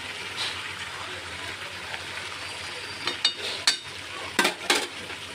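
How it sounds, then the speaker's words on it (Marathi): Salted pumpkin curry being stirred in a pan, soft scraping strokes over a low steady simmer, with a few sharper clinks of the spoon against the pan toward the end. "मीठ टाकलेलं आहे मी ते अजून एकत्र करायचं आहे चांगलं मिक्स करून घ्यायचं आहे"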